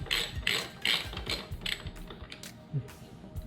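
A screw is backed out of the brake lever on a BMW S1000RR motorcycle, giving a series of sharp ratcheting clicks in quick bursts that grow fainter and sparser toward the end, close up with no talk.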